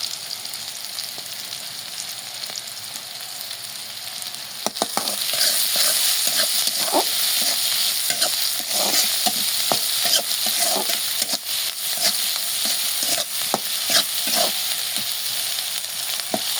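Chopped onion and chilli with salt hit hot oil in a pan, a quiet start followed by a loud steady sizzle with clinks and scrapes of a spatula stirring, close and alone.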